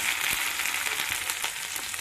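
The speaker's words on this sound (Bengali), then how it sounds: "এবারে আমি আদা রসুনের পেস্টটা দিয়ে দিলাম।" Ginger-garlic paste fries with browned onion in a pan, giving a continuous close sizzle and crackle with faint stirring scrapes, moderately loud and steady with no voices.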